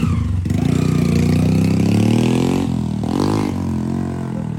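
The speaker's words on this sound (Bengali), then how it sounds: "ওরে কি মোটরসাইকেল এটা!" A motorcycle engine sounds loud and close, with a strong, steady drone that rises in pitch, drops sharply, then surges again before easing off. No talking is heard.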